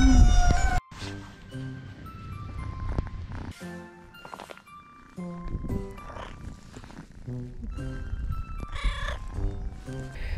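A small cat meowing repeatedly in short, varied calls with some purring between them, close by and fairly loud, with no talk.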